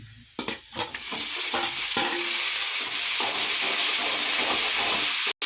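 Tomatoes go into a pan of frying garlic, onion and curry leaves for a spicy keerai kuzhambu, sending up a loud burst of sizzling and hissing steam with stirring clatter near the start.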